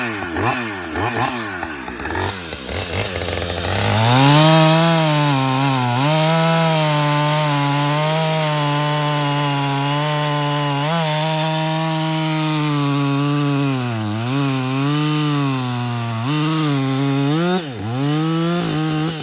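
Husqvarna 562 XP chainsaw, a 60cc saw, cutting through wet bull pine. The engine howls loud and close under load, dipping and recovering in pitch, with a sustained bogged-down growl throughout.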